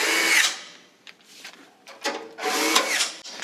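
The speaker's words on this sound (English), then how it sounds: "We're going to be using the 13 millimeter socket," Bracket bolts on a Weil-McLain SlimFit boiler frame, above the heat exchanger, are driven with a 13 millimeter socket on a power drill, in several short whirring bursts with brief pauses between them.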